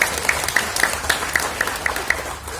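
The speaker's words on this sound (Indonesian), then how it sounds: "Tepuk tangan buat Pak Ketua." Audience applause for the union chairman at a company labour union meeting, a dense burst of clapping from a roomful of people, fairly close and steady before tapering slightly.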